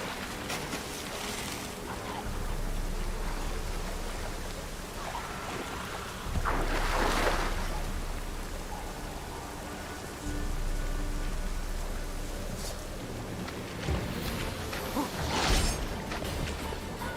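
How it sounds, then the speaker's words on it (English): Steady rain falls in The Witcher 3 game world near a boat and water, a constant hiss with a few louder swells and splashes, and no talk. "Looks like rain."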